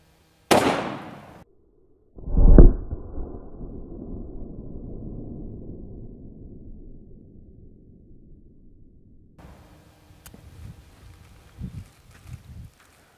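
An 1890s Merwin Hulbert 4th model antique pocket pistol fired point blank into ballistic gel: a sharp crack, then a second loud report that rings and decays over several seconds, followed by faint handling noise.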